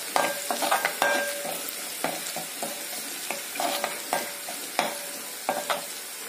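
Ginger and garlic sauté in a pan, with repeated scraping stirs and short bursts over a soft, constant sizzle, close and clear.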